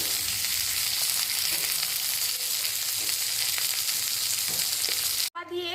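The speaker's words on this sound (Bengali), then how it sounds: "আস্তে আস্তে ফ্রাই করে নিচ্ছি আবার এই দিকটাতে অল্প একটু সর্ষে তেল দিয়ে দেবো" Fish frying slowly on a tawa in mustard oil over low heat, a steady dense sizzle with occasional crackles, cut short near the end by a brief clatter.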